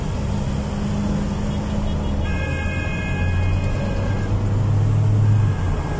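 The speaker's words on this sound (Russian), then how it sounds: "Гонят военную технику." Russian military convoy vehicles roll past on a road, a steady traffic roar with engine drone, brief horn-like tones in the middle and a heavier vehicle rumbling by near the end.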